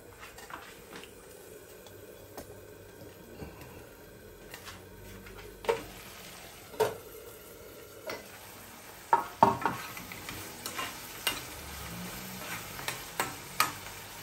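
Shrimp paste (ginisang alamang) sautéing with pork in a pan, a steady low sizzle under scattered scraping stirs and clicks of a utensil against the pan, growing busier toward the end, with no talking.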